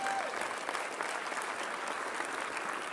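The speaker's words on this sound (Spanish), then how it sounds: "Denle un fuerte aplauso a Dios por eso." A church congregation claps steadily in a broad, even wash of applause, moderately loud and unbroken, with no voice over it.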